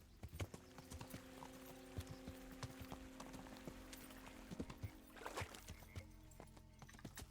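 Horse hooves clip-clop in steady rhythm on a path in Kingdom Come: Deliverance, close and distinct over a low sustained musical drone, with a few louder hoof strikes standing out.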